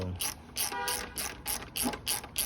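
A ratchet loosening a bolt on the engine guard of a Honda Dax125 gives a rapid, regular series of about ten sharp metallic clicks, close and clear with no voices.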